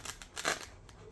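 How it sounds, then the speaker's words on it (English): Scissors snip through a soft foam pool noodle in a few quick, crisp cuts, close and fairly quiet, with brief crunchy bursts and no voices. "I prefer to use the scissors because I can do a big gigantic cut"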